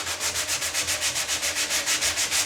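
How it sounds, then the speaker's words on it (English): A sanding block rubs back and forth over a drywall corner bead in quick, even strokes, a steady rhythmic scratchy swish close by with no talking. "So you're just gonna use a little sanding block."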